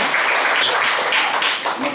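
A church crowd claps loudly and steadily after a prayer for a woman who could not walk, a thick, continuous burst of applause close by with voices mixed in.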